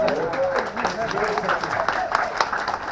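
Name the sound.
audience pity applause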